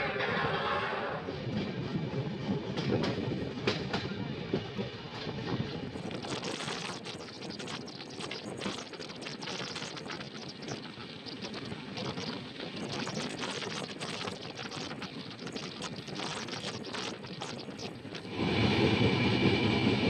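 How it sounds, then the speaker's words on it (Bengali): A Vrindavan Express train runs through heavy rain near Whitefield station outside Bangalore, a loud continuous rumble and rattle of carriages with hiss of rain, swelling louder near the end. "হোয়াইটফিল্ড স্টেশন পার করছি বৃষ্টির মধ্যে।"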